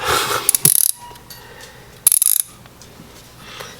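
An Icon 3/8 inch swivel ratchet clicks in two short, rapid bursts of sharp metallic pawl ticks, close up, with quiet pauses between them.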